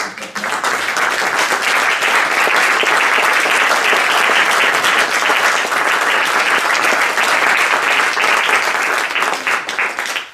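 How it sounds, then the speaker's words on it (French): A large audience gives sustained, loud, dense applause for the event team, a steady roar of many hands clapping that holds for about ten seconds before tapering off. "que j'aimerais qu'on applaudisse déjà très très fort"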